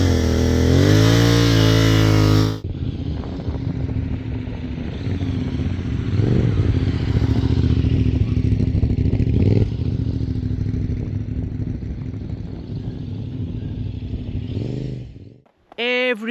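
A motorcycle engine idles at low revs while the clutch is feathered, giving a steady low mechanical hum with clattery texture after a loud opening burst, then a brief cut and a rising rev at the end.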